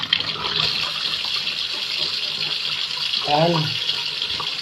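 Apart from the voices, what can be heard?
washing fruit under running tap water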